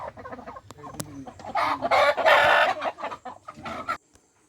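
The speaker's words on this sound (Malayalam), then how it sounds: "ഇത് ഇളയപ്പം വളർത്തുന്ന കോഴികളാണ് കേട്ടോ. നാടൻ കോഴികളാണ്." Native village hens and roosters cluck in a busy, overlapping flurry, rising to a loud burst of calls in the middle before trailing off, close by with no talking.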